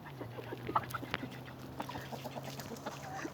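Hens in a backyard coop, fed on grapes, give faint, scattered clucks over a quiet background, with a few soft bird calls spaced apart.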